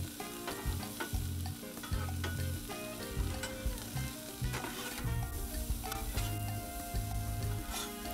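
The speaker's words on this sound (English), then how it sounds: "You can hear that sizzle." Hot dog toppings with garlic sizzle and fry on a 22-inch Blackstone griddle, a steady crackling hiss with intermittent scraping and stirring taps from a spatula, close and continuous with no talk.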